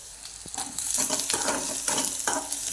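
Onion sautéing in a pan with constant stirring, a steady hiss and sizzle broken by repeated scraping strokes of a spoon, fairly close and moderately loud.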